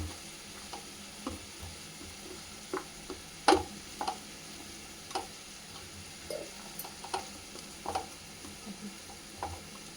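Shark puttu being stirred with masala powder and chili powder in a pan, soft spoon scrapes and taps in an irregular rhythm over a faint low sizzle, quiet and close.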